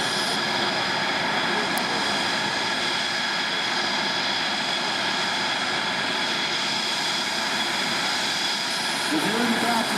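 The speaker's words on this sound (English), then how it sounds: "He can't hear you behind those engines." F-16 fighter jet engines roar at an airshow at Maxwell AFB in Montgomery, Alabama. A loud, steady jet whine and rumble fills the whole stretch, with an announcer's voice mixed underneath.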